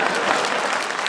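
A brief burst of dense crowd applause at a Hindi poetry recital (kavi sammelan), steady and fairly loud, many hands clapping together.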